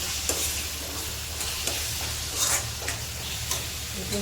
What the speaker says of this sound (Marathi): थोडा वेळ परतून घेऊया